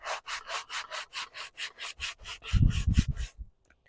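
Juniper wood bow limb from an elk backstrap sinew bow being hand sanded with 60 grit sandpaper: about a dozen steady, rhythmic scraping strokes, close and clear, ending in a heavier rubbing rumble before falling quiet.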